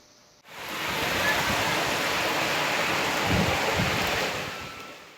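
Heavy downpour over rural Mandvi, Kutch, with water running down the road; a loud, roaring wash of rain rises in after a quiet start and holds steady, with occasional low rumbles.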